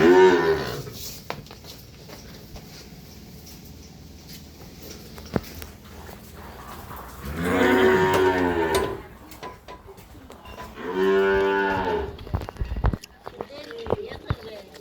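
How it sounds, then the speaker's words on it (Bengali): Red Friesian cattle on a farm in Bogura moo in several long, loud, drawn-out calls, with quieter stretches of farmyard noise between them. "এগুলো খামারের গরু তো অনেক সুন্দর বাচ্চা"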